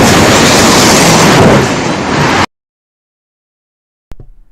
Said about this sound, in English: is why you don't stand next to a window when a big explosion happens.